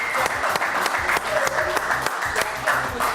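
A studio audience gives steady, energetic applause for a show's co-host, the clapping fairly loud and continuous with sharp individual claps standing out.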